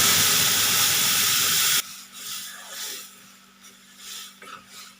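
Boiled lentils poured into a hot tempering of green chili and onion, bursting into a loud, steady hiss of sizzling steam for nearly two seconds before cutting off, followed by quieter stirring and clinks.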